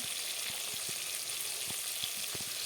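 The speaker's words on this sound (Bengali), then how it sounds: "এখানে তেলাপিয়া মাছগুলো ভাজা বসিয়ে দিলাম" Tilapia fries in hot oil with a steady, even sizzle and crackle, a few faint taps of a utensil underneath.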